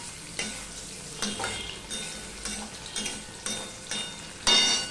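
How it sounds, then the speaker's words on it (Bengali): Potatoes frying in a covered pan, a soft steady sizzle broken by several sharp scraping bursts of stirring, the last one louder and closer. "এবার আলুটা ভাজা হওয়া পর্যন্ত আমি অপেক্ষা করব।"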